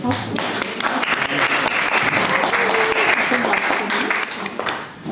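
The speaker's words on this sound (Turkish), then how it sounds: "Hadi sen de alkışla." Crowd applause at a wedding ceremony, steady clapping from many people filling the whole stretch, with voices mixed in underneath.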